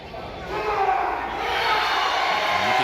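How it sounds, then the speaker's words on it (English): Crowd at a CWA indoor wrestling match roaring in support, a swelling wall of cheering that builds after the first half-second and holds steady, with a commentator's voice over it. "And you can hear this crowd roaring in support"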